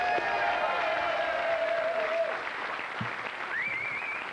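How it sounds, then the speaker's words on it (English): A studio audience claps steadily for a few seconds at fairly low level, with a faint tone running underneath before the applause thins out. "Mr. Henry Normal, applause, please."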